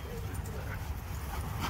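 A wolfdog roughhousing with huskies indoors: scuffling, low growly yips and whimpers mixed in a busy, fairly quiet scene with people talking over it.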